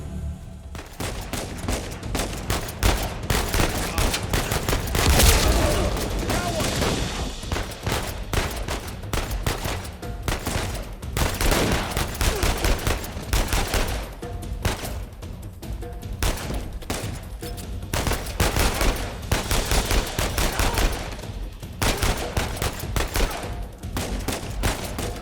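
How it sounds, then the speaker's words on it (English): Dense, loud shotgun blasts and sustained gunfire fill a firefight in Uncharted 4: A Thief's End, with repeated booming shots and constant combat noise running throughout. "Ah, right, shotgun."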